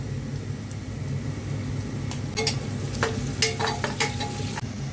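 Onion and whole cumin seeds frying in a pan while beef is being slow-cooked, a steady close sizzle broken by a cluster of sharp spatula clinks and scrapes in the second half, with no voices.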